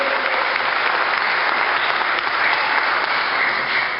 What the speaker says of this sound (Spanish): Vamos a darle el aplauso al Señor.